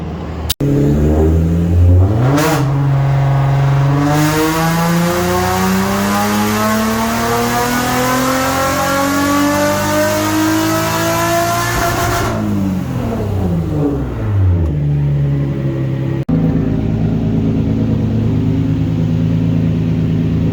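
Single-turbo Nissan 370Z engine revving hard through rising and falling sweeps on a test drive, loud and close, building to sustained high revs, then dropping back to a steady idle near the end.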